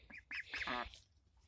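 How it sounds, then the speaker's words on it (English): A young duckling from a fresh hatch gives a few short, little honking quacks in quick succession, fairly near and clear, with faint background noise. "You can hear that little honking quack in the background."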